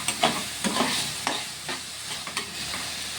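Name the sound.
stirring mushroom curry frying in a pan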